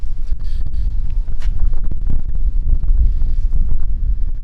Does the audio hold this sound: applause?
no